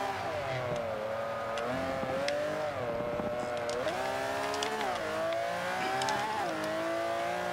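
Ferrari 250 GTO racing in Forza 5, its engine revving and rising and falling in pitch through gear changes, loud and continuous with faint tire squeal and no talk.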